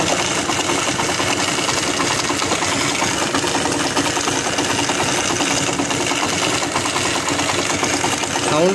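A Honda Hornet 160 motorcycle engine with a faulty magnet coil idles steadily nearby, with a fast, uneven ticking rattle running through its hum.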